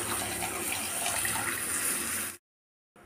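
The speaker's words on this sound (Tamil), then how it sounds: "இப்போ தேவையாக கொஞ்சம் தண்ணி ஊற்றிக்கலாம்." Water pours steadily into a pan of cooking curry (fenugreek kuzhambu), a broad continuous splash that cuts off abruptly, leaving a short silence before a little more flow resumes.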